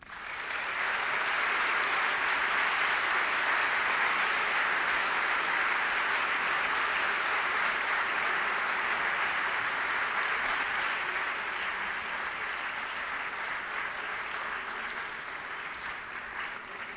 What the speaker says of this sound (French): Merci et vous pouvez les applaudir.